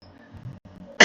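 One short, sharp cough bursts out at the end, following a second of quiet low room noise.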